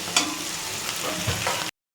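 Onions fry and sizzle in a pan, a steady close hiss with light stirring scrapes, no voices.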